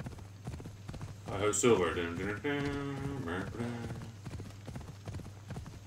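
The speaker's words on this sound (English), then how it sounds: "I'm riding on a horse." Horse hooves clip-clop in a steady gallop while riding in the video game Assassin's Creed Odyssey, sharp rhythmic beats running throughout, with someone speaking over the middle and a brief neigh-like sound.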